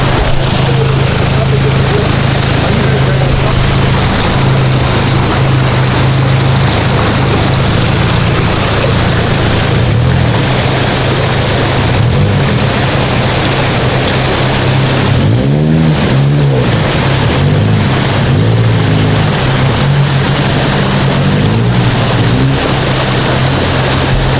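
A tracker vehicle drives through deep water at an off-road OHV park, its engine droning loudly and steadily with rushing, splashing water throughout and a surge of churning around the middle.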